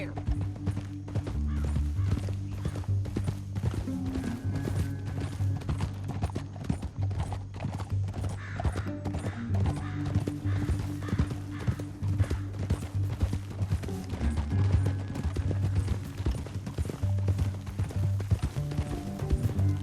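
Steady rhythmic hoofbeats of a galloping horse in Red Dead Redemption 2 run continuously under game music, with an occasional neigh, fairly loud and close throughout.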